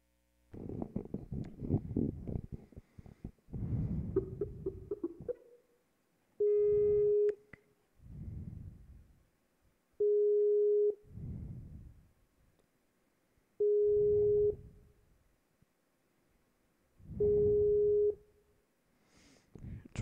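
A steady telephone ringback tone in Roblox Advanced Future Tycoon sounds in four evenly spaced bursts, each about a second long, alternating with short muffled rumbling noises in between.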